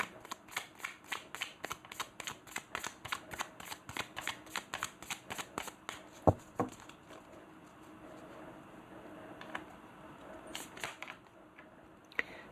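Tarot love cards shuffled by hand in a rapid, steady run of soft papery flicks for about six seconds, then looser slides and occasional sharper taps as the deck is handled, close up with no voice.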